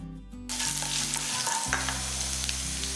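Urad dal, cumin, curry leaves and garlic fry in hot oil for a kovakkai chutney, giving a steady close sizzle with a louder burst as fresh ingredients drop in partway through, and no voices.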